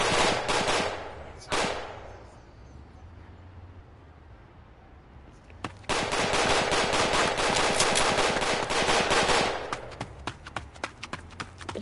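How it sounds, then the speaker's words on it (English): A big gun fires in the Roblox game South Bronx: The Trenches, opening with a loud burst of rapid shots, then a lull, then long sustained automatic fire ending in scattered single shots. "Finally, I got a big gun."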